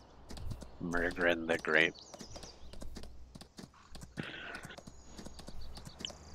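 Horse hooves clip-clop in Farming Simulator 19, a few soft, scattered footfalls mixed with light game ambience while people talk over them.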